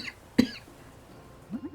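A single sharp cough from a hoarse player with a sore throat, close to the microphone, followed by a brief low throat noise, with quiet gaps around it.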